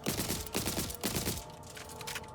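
Rapid submachine gun fire in the video game Borderlands 4, dense bursts of shots repeating for about two seconds at steady loudness, close and with no talking.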